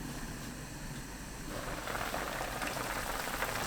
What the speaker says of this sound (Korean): 감자, 당근 넣고 뚜껑 닫아 센 불로 끓이세요.